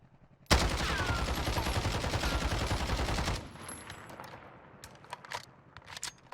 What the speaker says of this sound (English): let's look at the basic recoil pattern. This is CR-56 AMAX